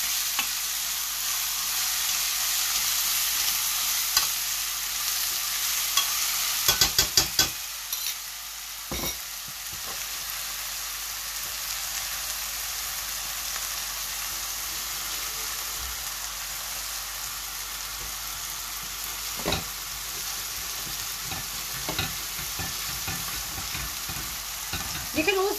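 Cumin seeds fry in hot oil as a tempering for lamb chop curry, a steady, bright sizzle that runs throughout, broken by a few sharp stirring clatters near the start and scattered taps later.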